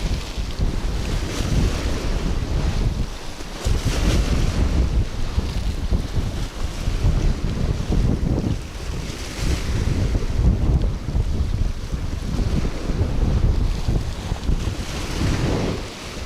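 Strong wind blows across the Florida Gulf Coast during a fishing trip, a loud continuous gusting roar buffeting the microphone, with surging surf underneath.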